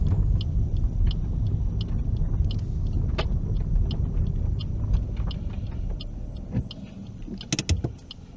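Car interior during a driving test, a low steady road and engine rumble with a series of light ticking clicks, like an indicator, and a few sharper knocks near the end.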